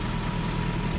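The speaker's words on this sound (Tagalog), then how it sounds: "Talagang nagagalit lang yung makina." A car engine with a worn clutch lining runs steadily and roughly at the roadside, a low, continuous rumble with vibration and no talking, straining without moving the car.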